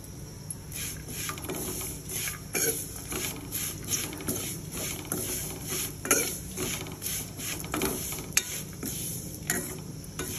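Hand-made vermicelli is roasted in a pan, giving repeated scraping and clinking strokes of a utensil against the metal with a faint sizzle underneath, close and moderately loud in an irregular stirring rhythm.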